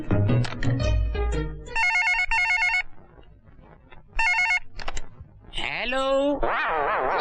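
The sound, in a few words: telephone ringing after placing a call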